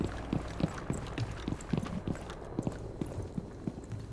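Running footsteps from a Rainbow Six Siege match in an ESL Pro League Xbox One game, a quick irregular series of soft thuds at moderate distance over a low game-ambience bed.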